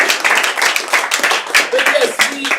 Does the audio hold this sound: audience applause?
yes